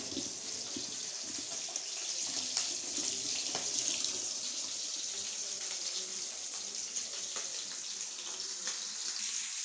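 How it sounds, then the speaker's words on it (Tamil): Cooking pots are washed under a running kitchen tap, with water streaming steadily from start to finish, a continuous close splashing flow broken by faint clinks. "இப்போ உள்ள சமையல் முடிச்ச இந்த பாத்திரத்தை இனி வாஷ் பண்ணணும்."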